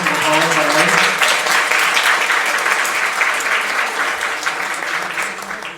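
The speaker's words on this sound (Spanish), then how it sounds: "Un aplauso, por favor, para él." A training-session audience breaks into loud, sustained clapping that fills the room, briefly overlapping a voice at the start before carrying on alone and tapering slightly.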